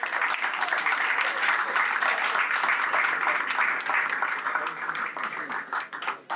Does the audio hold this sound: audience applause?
yes